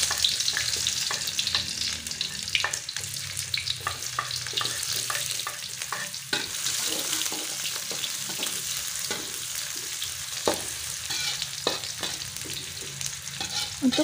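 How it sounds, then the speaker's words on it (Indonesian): Shallots sautéing in oil for stir-fried bean sprouts with scrambled egg, a steady close sizzle and crackle running throughout with occasional scraping stirs of a spatula, no talking. "Lalu kita tumis bawangnya."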